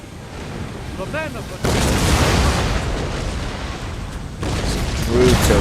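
Artillery fire booms in the Napoleon Total War video game, with two heavy blasts breaking out and rumbling on, a distant crackle of guns between them and faint whistling shells overhead.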